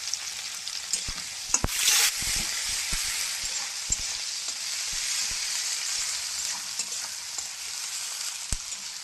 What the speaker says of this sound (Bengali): তেল গরম হয়ে গেছে, এবার পেঁয়াজগুলো আমি দিয়ে দেবো